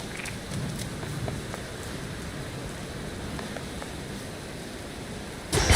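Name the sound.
rain falling in the video game Hades II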